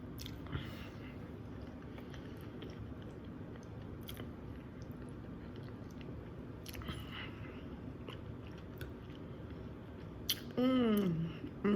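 Chewing and biting through spaghetti with squash during a mukbang, close and quiet with soft wet squishes and occasional crunches, ending with a brief hummed murmur.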